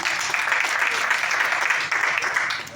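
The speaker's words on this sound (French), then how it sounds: "Ça mérite des applaudissements," An audience gives continuous, fairly loud applause at the Waga Talent preselection for the Waga Festival 2024, a steady wash of clapping throughout.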